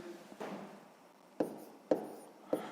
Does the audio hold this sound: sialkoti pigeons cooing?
no